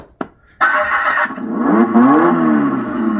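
A Power Wheels ride-on toy car motor under test gives a sharp click, then a loud electric whine that rises in pitch as the motor spins up, close by with no talking.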